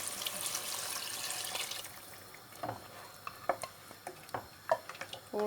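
Water is poured into a cooking pot while making achar gosht, starting as a steady splashing pour that fades into quieter sloshing, stirring and scattered small clinks, heard close with no talking.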